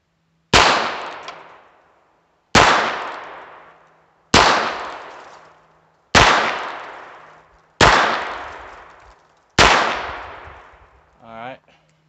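Six sharp, loud rimfire shots from a Heritage Barkeep revolver with auto match ammunition at a range, evenly spaced about two seconds apart, each ringing out and decaying before the next, with a brief mechanical clatter at the end.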